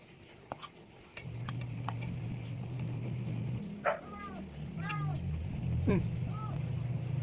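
A cat gives several short meows in a row, moderately close, over a steady low engine-like drone with a few soft clicks early on.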